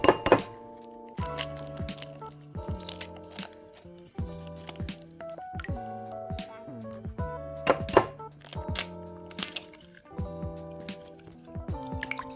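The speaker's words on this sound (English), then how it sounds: "For my wet, I have the milk, and I'm gonna whisk and mix my 2 eggs" Two eggs and milk are whisked together in a bowl for sourdough discard pancakes, giving quiet, close, irregular ringing clinks against the bowl with soft wet sloshing between strokes.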